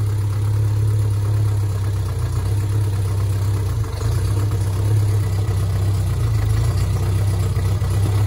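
A 1973 Bond Bug 700ES engine idles steadily up close, a deep continuous rumble with a slight vibrating texture that holds an even level throughout, with no voices over it.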